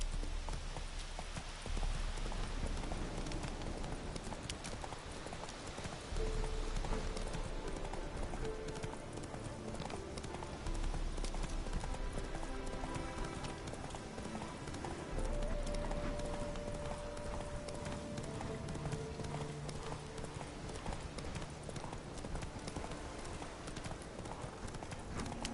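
Horse hooves gallop in a steady clip-clop rhythm in The Witcher video game, running continuously over a dense bed of game music and ambience, with brief tonal effects partway through.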